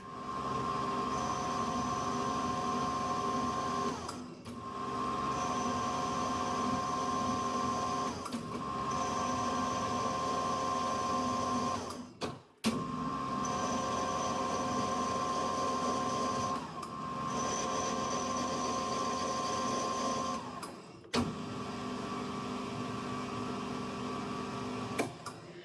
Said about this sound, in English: I've never cut a thread with the tool post with the compound slide at 90 degrees